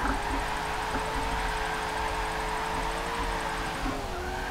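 Car drifting in the racing game Forza Motorsport 7, played on a Logitech G920 wheel: a continuous engine drone with sustained tire squeal and skidding, loud and unbroken, with no voices over it.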